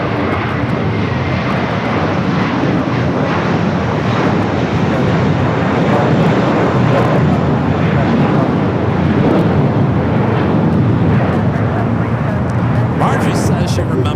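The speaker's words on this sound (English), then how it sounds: "A321 rolling down at 25 right?" A JetBlue Airbus A321 rolls down the runway for takeoff at Los Angeles airport, its loud jet engines roaring steadily throughout with a broad rumbling wash, as people chat over the noise.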